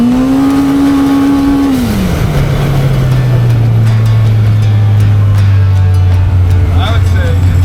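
Supercharged Pro R off-road vehicle pulling away on a ride, a loud engine and drivetrain drone that drops in pitch and settles into a steady roar under constant wind noise.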